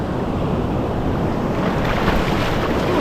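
Pacific Ocean surf at Ruby Beach roars in a continuous, loud wash of breaking waves, with wind buffeting the microphone throughout.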